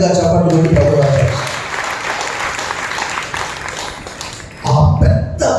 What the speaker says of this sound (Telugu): మరలా బిగ్గరగా చప్పట్లు కొట్టి ప్రభువు